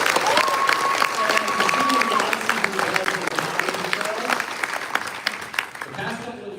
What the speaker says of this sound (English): Let's give a round of applause for them.